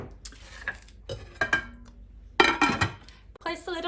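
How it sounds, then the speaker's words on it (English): A lid set onto a slow cooker, giving a few close clinks and clatters of lid against pot between stretches of a person talking. "place the lid on your slow cooker."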